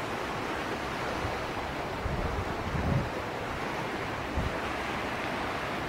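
Sea waves wash onto the sandy beach of Swanage Bay on a discordant coastline, a continuous soft roar of surf mixed with wind buffeting the microphone, with no voices.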